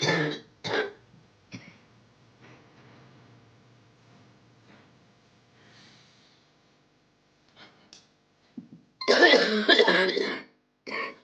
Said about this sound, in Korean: 지난밤에 시작된 기침이 아침까지 멈추지 않는데요.